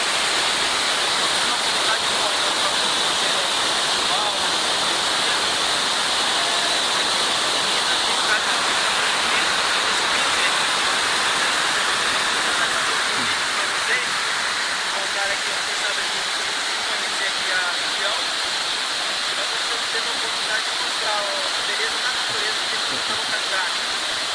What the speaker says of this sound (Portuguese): Estamos aqui na Cachoeira do Sossego.